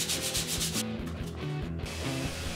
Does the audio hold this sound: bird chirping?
no